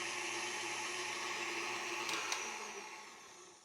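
A KitchenAid stand mixer runs on its stir speed with a steady, close motor whir and hum, continuous throughout and winding down slightly near the end.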